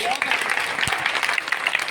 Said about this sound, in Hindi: एक बार दोनों हाथ ऊपर करके ताली बजाइए।